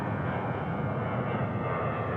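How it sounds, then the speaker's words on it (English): An Embraer jet at Dallas-Fort Worth airport gives off a continuous, even engine roar and rumble, moderately loud, with no talk over it. "Nice Embraer, Wendy."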